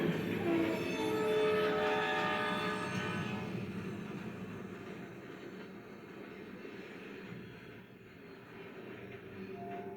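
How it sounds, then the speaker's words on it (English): A train rumbles past at a distance, a steady broad roar with faint tonal whine that slowly fades. "there's this train coming straight through"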